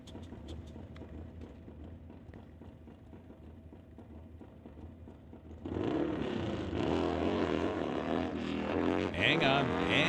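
A drag racing motorcycle at an NHRA Summit ET and CMDRA bike drags event makes its run, starting as a quieter ticking rumble and then bursting into a loud, sustained roaring pull that builds toward the end.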